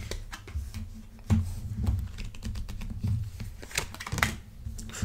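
Slippery tarot cards are shuffled and laid out on a table, giving a quick run of soft clicks, flicks and taps close to the microphone, with no speech.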